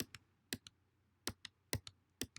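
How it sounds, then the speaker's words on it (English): Command Z undo shortcut typed on a computer keyboard: sharp plastic key clicks in quick pairs, four close bursts spaced about half a second apart, with no talking. "I'm going to hit Command Z on my keyboard and go back in time just a little bit"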